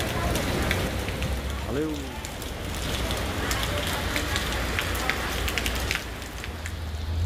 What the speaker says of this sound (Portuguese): Ver uma chuvinha dessa caindo por aqui